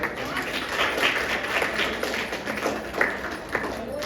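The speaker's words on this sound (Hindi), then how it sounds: "एक बार जोरदार ताली बजाइए" Audience clapping at a children's poetry stage event, a steady patter of many hands for several seconds, fairly close and moderately loud with some voices mixed in.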